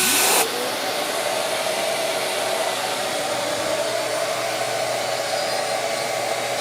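A Shaper Origin handheld router plunges straight to depth to cut a full-width slot in one pass for tambour doors. A loud, steady motor whine rises at the start and runs on unbroken, with no talk.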